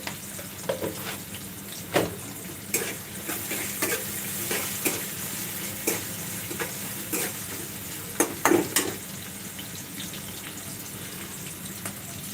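Food fries in a pan with salt added, making a steady close sizzle with intermittent clatter and scraping of utensils against the pan, and no voices over it.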